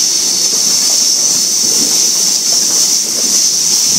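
A Sydney Trains Oscar set passes a platform at Oatley station, giving a loud, steady rushing roar with a constant high-pitched hiss and squeal of wheels on rails, close and sustained throughout.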